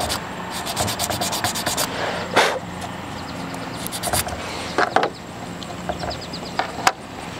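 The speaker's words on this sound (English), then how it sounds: "Give it a quick little sanding." Sanding a screw head flush on a toy rifle, with repeated short rubbing strokes in bursts and a few sharper scrapes, close and fairly steady with no talk.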